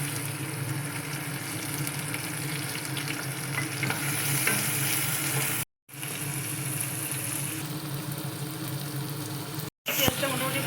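Chopped onion with two cardamom pods is frying in oil in a home kitchen for a prawn malai curry, giving a steady close sizzle with stirring scrapes, broken by two brief silent cuts.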